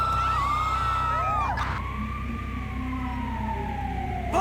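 A police car siren in a video game wails in rising and falling sweeps, loud and close, with engine rumble underneath and no talk over it.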